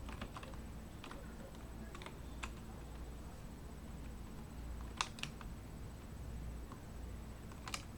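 Someone types on a computer keyboard, with scattered soft key clicks and a few sharper taps over a steady background hum, fairly faint and with no talking.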